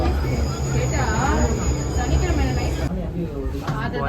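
A Chennai Metro train pulls into Koyambedu station, with a loud rumbling hum and rising, falling electric motor tones close by, then a squealing whine as it slows. Voices chatter softly underneath.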